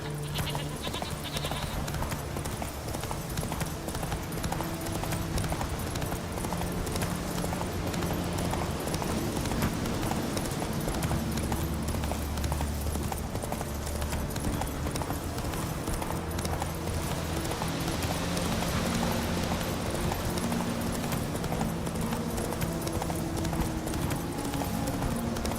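Galloping horse hooves from Roach in the video game Witcher 3, a steady rapid clip-clop rhythm running throughout, close and continuous, with game ambience underneath.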